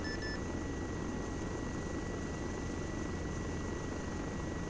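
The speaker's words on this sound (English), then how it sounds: "Reaper's moving off the runway, taxiing to the Blackhawks" Steady low rumble of UH-60 Black Hawk helicopters at a military runway, a constant engine and rotor drone heard at a distance and fairly faint, with no voices.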